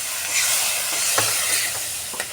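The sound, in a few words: water from rinsing the mixer jar poured into frying masala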